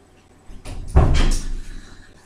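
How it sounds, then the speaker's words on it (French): A house door is pulled open quickly to let a cat out, a brief thud and rattle followed by a short scraping swing, with no talking. "J'étais allée ouvrir la porte rapidement."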